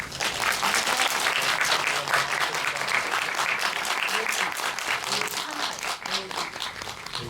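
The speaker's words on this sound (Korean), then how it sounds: "여러분들 다시 한번 큰 박수 부탁드리겠습니다" An audience at a film screening event in Apgujeong for "My Sunshine" breaks into sustained, loud applause, many hands clapping close by, with faint voices under it.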